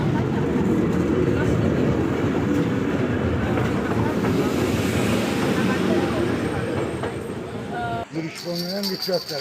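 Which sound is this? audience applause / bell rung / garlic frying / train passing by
train passing by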